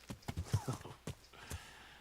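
A horse makes a few short snorting, clopping sounds in quick uneven bursts, close and fairly soft, over about two seconds with nothing else prominent.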